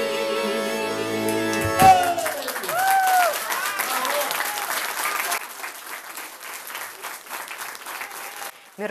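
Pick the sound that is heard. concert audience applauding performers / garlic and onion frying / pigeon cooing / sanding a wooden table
concert audience applauding performers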